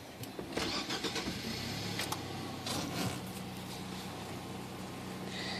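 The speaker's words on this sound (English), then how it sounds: "we're gonna start the car" A Nissan Sentra's engine cranks and catches, then runs steadily at idle, heard up close inside the vehicle with a few clicks.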